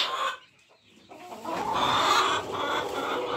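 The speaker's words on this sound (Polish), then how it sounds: "Tutaj są koguty." Roosters and hens at a poultry farm keeping quail, Brahmas and Silkies cluck nearby, a brief lull followed by a busy, overlapping stretch of clucking.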